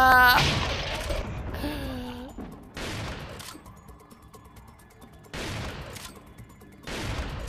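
Single gunshots in Resident Evil 4 VR ring out loud and close, four or five sharp cracks spaced about a second or more apart, after a brief burst of speech at the start.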